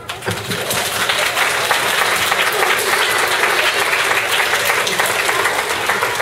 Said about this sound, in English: giving all of our parents and grandparents and family and friends a big round of applause